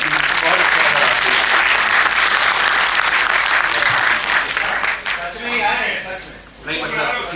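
A theatre audience gives loud, sustained applause after a Hindi stage play. The clapping is dense and close, thinning in a brief dip near the end before it swells again.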